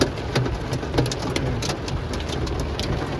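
Heavy rain pours down steadily with sharp pattering impacts as hail and raindrops strike a surface close by in North Bengal, with no voices.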